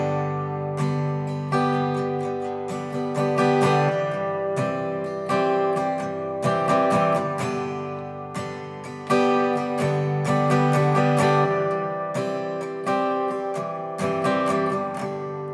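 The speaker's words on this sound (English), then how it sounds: "I'm playing a sort of folk style guitar here, folk style acoustic voicings" Folk-style acoustic guitar plays a two-chord intro with open acoustic voicings starting on G, strummed steadily and close, with no voices.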